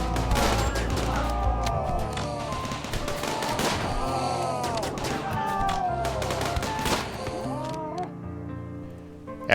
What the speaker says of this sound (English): After a fierce firefight